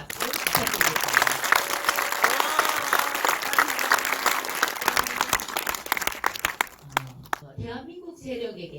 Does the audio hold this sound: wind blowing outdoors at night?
no